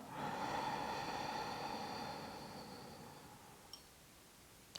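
A long, steady inhale through the nose during a Tai Chi breathing exercise, soft and airy and close to the listener. It holds for about three seconds, then fades, with a small click near the end.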